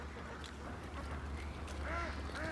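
Backyard farm ducks quacking beside a large flooded pond, a few faint distant calls over a low steady hum, with two clearer quacks near the end.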